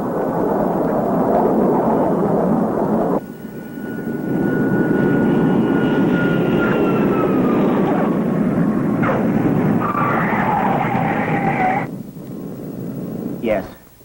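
An aircraft approaching to land in a radio drama sound effect, a loud, sustained engine roar that dips briefly and then rises again, with voices speaking over it.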